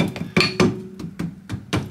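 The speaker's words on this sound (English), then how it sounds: "I've been around with my little hammer" A small hammer taps on the suspension parts of a Porsche 928, giving a series of about eight sharp metallic knocks in an uneven rhythm, close and fairly loud, with no talk.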